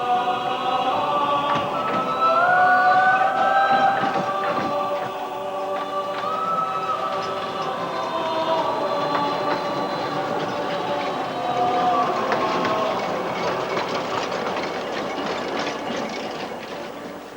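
Hunslet Alice, a narrow-gauge quarry locomotive, runs on the Leighton Buzzard Light Railway beside a sand quarry line, its wagons rumbling with clickety-clack wheel beats and squealing flanges, steady and fairly close without talk.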